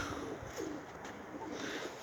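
Domestic pigeons coo in a breeding loft during the egg-laying season, a soft, low, rolling murmur that carries on steadily throughout with faint background hiss and no voices.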